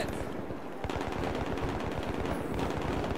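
A big gun hammers out steady rapid automatic fire in a video game, a dense, loud stream of evenly spaced shots heard at mid distance, with no talk.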